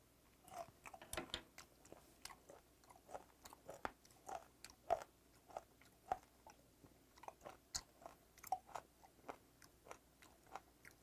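Raw, unfermented skate nose is chewed close to the mouth, giving irregular crunchy, wet bites and chomps in a steady chewing rhythm with no talking.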